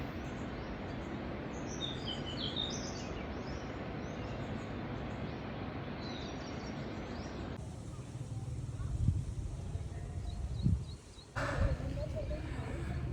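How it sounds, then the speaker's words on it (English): Birds sing outdoors on a college campus in Pune, with faint, scattered high chirps through the first half over steady outdoor background noise. A few soft thumps and rustles come later, and no voices are heard. "you guys will be able to listen the sounds of the birds and sometimes peacock also"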